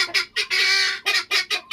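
A guinea fowl calls loudly and close by near eggs and chicks: several short harsh bursts, then one long sustained cry, then more quick bursts, with no talking.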